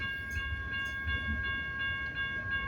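A BNSF intermodal freight train rolls past, a low, steady rumble with a faint ringing metallic whine and light periodic clicks over the rails.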